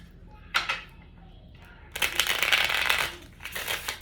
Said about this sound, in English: Ooh, these cards don't want to shuffle.